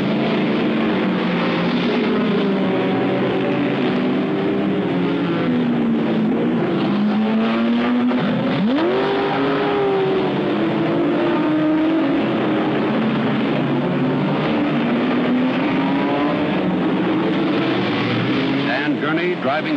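Race cars at the 1967 24 Hours of Le Mans drone and rev with rising and falling engine tones, and one car sweeps past sharply midway. A commentator talks over the engines.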